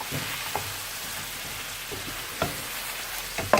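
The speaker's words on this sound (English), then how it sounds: "we'll give that a good stir really. Make sure nothing's burning, and it isn't. It's caramelising nicely" A Madras curry base caramelises in a pan as it is stirred, a soft continuous sizzle broken by several sharp spoon-on-pan knocks, close and moderately quiet with no talk.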